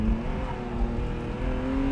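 A BMW E36 M3 with the S52 engine accelerating on the move, a steady rising engine drone heard from inside the car under road and wind roar, with no talking.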